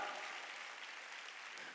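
A congregation claps together during a Wednesday church worship service, a steady, even wash of many hands at moderate distance, fairly quiet and unbroken throughout.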